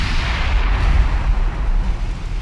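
A heavy naval shell strikes a heavy cruiser in the video game Ultimate Admiral Dreadnoughts, a dense rumbling roar of impact and gunfire that stays loud and steady throughout.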